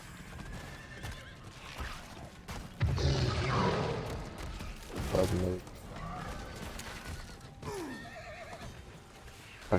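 A horse whinnies loudly in a video game, with hoofbeats clopping underneath and a few booms and crashes from the surrounding game action.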